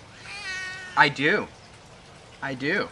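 A Siamese cat gives a drawn-out, clear meow up close, followed by a person speaking briefly.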